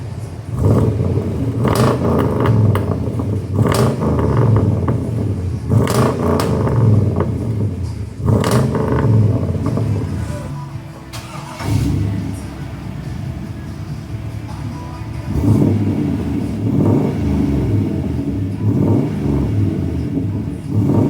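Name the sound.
OBS Ford truck engine revving through X pipe exhaust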